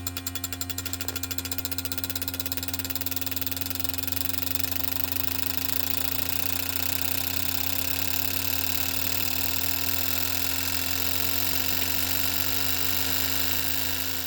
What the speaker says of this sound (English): all you do is turn on the pump. That's going to send our test fuel into the injectors.